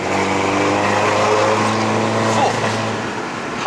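A MINI John Cooper Works F56 in Sport Plus mode on a Genting hill climb in Malaysia, heard as a loud, steady engine drone from inside the car with a brief rising rev partway through.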